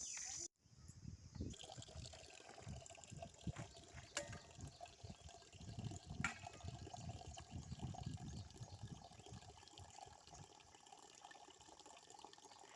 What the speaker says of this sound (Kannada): ಈಗ ಕುಡಿಯೋಕ್ಕೆ ನೀರು ಹಿಡ್ದು ಮಾಡ್ತಾ ಇದ್ದೀನಿ. ಚೊಂಬಿಗೆ ತುಂಬಿತು.